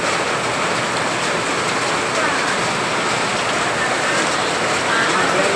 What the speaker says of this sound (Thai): ตกแรงนะฝนตกแรงค่ะฝนตกแรง